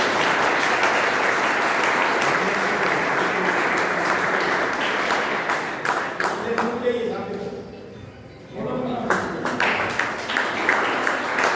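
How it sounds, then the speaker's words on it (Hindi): A large crowd gives loud, sustained applause for a newly elected association president, a dense wash of clapping that dips briefly and then swells again, with voices faintly underneath. "जोरदार तालियां"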